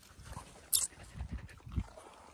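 A dog being fed biscuits on the trail at Mahuli fort makes brief, low sounds, with one sharp burst near the start and a couple of soft thumps after, mostly faint.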